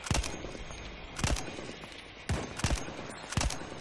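Gunfire in Battlefield 1, sharp bursts of shots in clusters of two or three, separated by short gaps over a faint background hum, fairly close.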